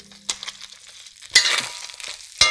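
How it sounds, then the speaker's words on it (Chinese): Egg fried rice being stir-fried over low heat in a home kitchen pan, giving a few short scraping and sizzling bursts with quiet gaps between them. "翻动蛋炒饭"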